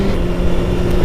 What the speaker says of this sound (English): I can hear more of the intake, which is a nice sound.